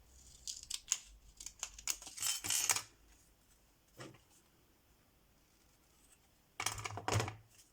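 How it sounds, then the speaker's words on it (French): Scissors snip through paper for scrapbooking in quick bursts of crisp close cuts, a pause, a lone snip, then another short run of cutting. "Donc là, je vais couper."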